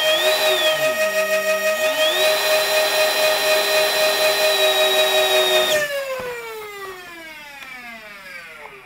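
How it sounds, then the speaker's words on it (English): Electric fan inside a proton pack prop whirs with a steady tonal whine that dips and rises in pitch as its speed dial is turned, then spins down and fades after a sharp drop partway through. "just rev and dial that the high, which is the fan speed, up and down until I got to where I wanted to be"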